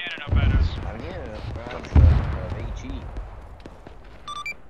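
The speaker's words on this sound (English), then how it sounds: "there's definitely something down there shooting something that sounds like a cannon up at us" Heavy cannon fire in Arma 3 booms twice with deep, loud thuds, the second the strongest, amid battlefield rumble while someone talks over the radio.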